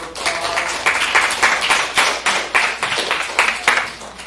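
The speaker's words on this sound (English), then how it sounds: "I think that they all deserve another round of" Audience applause for students at an education live-stream showcase, a room full of clapping swelling in rhythmic bursts, close and steady for several seconds with no talk over it.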